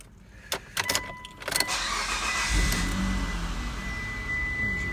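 A 2007 Mitsubishi Outlander with automatic transmission cranks after a few clicks, then catches and settles into a steady, even idle close by.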